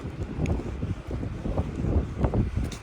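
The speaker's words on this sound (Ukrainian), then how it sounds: "Вітер, холодина, погода кончена." Cold, gusty winter wind buffets the microphone in uneven low rumbling bursts, rising and falling over a few seconds, with no one speaking.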